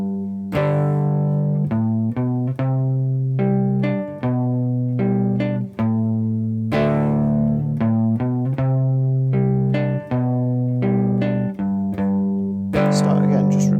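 Cigar box guitar flatpicked through the chorus of a song: a twangy, slightly distorted riff of plucked notes and short chord stabs in a steady rock rhythm, close and loud, played alone.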